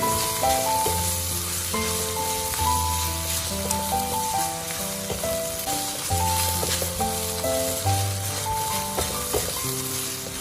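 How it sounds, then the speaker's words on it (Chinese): Scallion, ginger and garlic stir-fry over medium-low heat for a homemade zhajiang noodle sauce, producing a continuous moderate sizzle with occasional scraping stirs, no voices present. "我们就可以把葱姜蒜全部都加进来，继续开中小火不停地煸炒"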